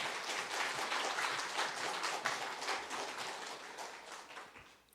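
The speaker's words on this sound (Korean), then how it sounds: "큰 박수로 환영해 주시면 감사하겠습니다" A church congregation applauding in welcome during a Sunday morning worship service, a fairly soft, steady patter of many hands lasting about five seconds and tapering off at the end.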